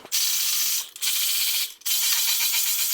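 A ratchet running bolts in on an accessory for an LS swap engine in an OBS truck, three bursts of fast, continuous clicking with brief pauses between them, close and loud.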